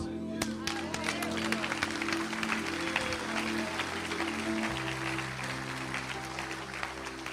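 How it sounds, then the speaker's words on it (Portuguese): A church congregation bursts into sustained applause and clapping throughout, a dense, steady wash of many hands with crowd noise, accompanied by a held musical tone underneath. "Pode aplaudir o Senhor."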